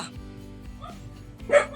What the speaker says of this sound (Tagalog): Naandito na naman ang asong ito.